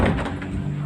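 A door opens or closes near an indoor stairway, a soft scraping, sliding thud set against steady low background noise, with no clear sharp slam.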